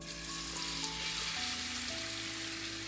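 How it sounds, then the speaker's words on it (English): Halved shrimp sizzle and pop steadily in a hot pan, a close, continuous frying hiss with faint tonal hum beneath and no talk. "I cut the shrimps in half and we're going to just add it here. It's gonna kind of pop"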